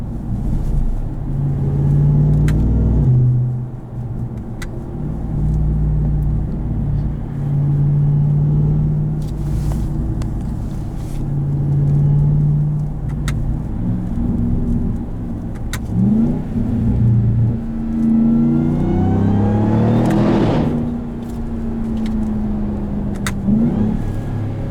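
A 2022 Ram 1500 TRX with pulleys and a resonator-deleted exhaust rumbles loudly from inside the cab, its engine note rising and falling through repeated accelerations and gear shifts, with deep droning between pulls.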